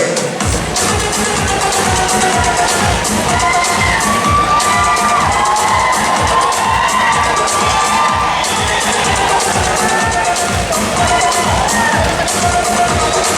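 A loud crowd cheers and screams without letup as a judge is welcomed onstage at the PARAMATA 2025 coronation night, with rhythmic thumping beneath the roar and high shouts rising over it.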